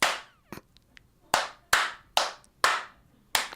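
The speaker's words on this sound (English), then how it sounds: "And you ready to clap? Ready to sync this up?" Several sharp hand claps ring out close and loud in a quiet room to sync a podcast recording, a couple of lighter taps first, then five firm claps in a roughly even rhythm, each with a brief decay.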